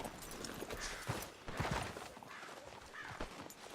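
Horse hooves clip-clop at close range in an old-west town street, with irregular thuds and scuffs over a low background.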